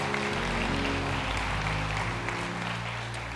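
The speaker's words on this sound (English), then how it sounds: "let's give them a round of applause" Steady applause from a church Easter production audience, continuous clapping throughout at moderate distance, with no talking over it.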